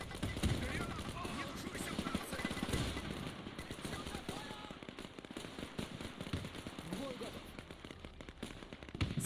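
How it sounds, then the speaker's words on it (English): Battle noise from the World War II strategy game Men of War 2, with a grenade blast among continuous rattling gunfire and crackling small explosions, loud and dense throughout, with voices partly under the din. "Oh no, that's a grenade."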